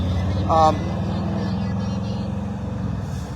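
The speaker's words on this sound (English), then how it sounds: "the traffic noise is fairly loud" Loud road traffic roars steadily beside a roadside in Salina, Kansas, a continuous engine and tire rumble with a brief voice heard over it.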